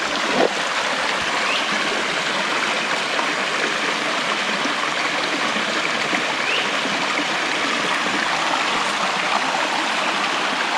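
Steady broadband rush of a stream flowing outdoors, close and continuous throughout with no talking, the water's hiss even and unbroken.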